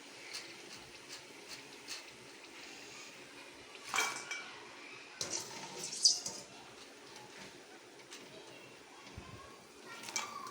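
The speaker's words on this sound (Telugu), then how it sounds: "ఇవన్నీ డబ్బేసుకోవాలి చూడండి ఎలా సౌండ్ వస్తున్నాయి" Crispy fried wheat-flour and ragi-flour gavvalu tumble into a container, giving a few light, brief clattering rattles over a quiet background.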